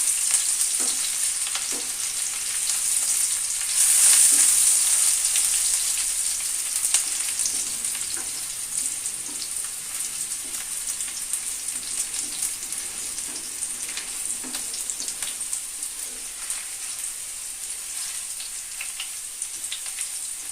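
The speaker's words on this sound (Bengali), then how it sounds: "পেঁয়াজটা একটু লাল লাল করে ভেজে নিয়েছি। এবার আমি বেটে রাখা মশলাটা দিয়ে দেবো।" Ground spice paste sizzles and spatters in oil with onions fried until reddish, made for a spicy Bhola fish curry, giving a steady crackling fry with occasional stirring clicks.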